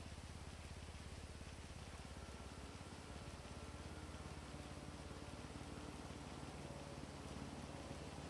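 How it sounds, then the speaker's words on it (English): Rain falls in GTA V on the NoPixel roleplay server, a steady even hiss of drops on surfaces that holds unchanged throughout, fairly quiet with no voices. "It's rain."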